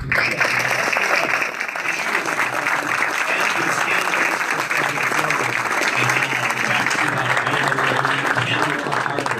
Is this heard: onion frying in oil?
no